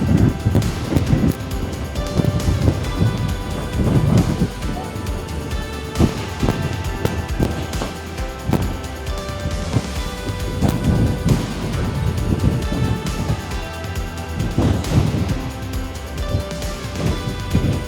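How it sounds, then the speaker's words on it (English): Strong coastal wind along the Cabot Trail near Sydney, Canada, buffeting the microphone in uneven gusts, loud low-frequency rumbles rising and falling with no talk. "That is a lot of wind down here."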